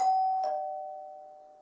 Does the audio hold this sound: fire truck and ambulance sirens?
no